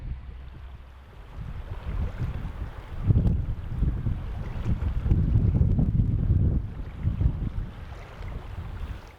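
Wind gusts buffet the microphone on a lake bay during a canoe crossing, with rough, low rumbling surges of wind and choppy water swelling and fading, loud and close.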